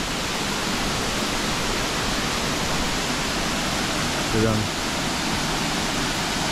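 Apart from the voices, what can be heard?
small waterfall with strong water flow, Dexing Waterfall, Nantou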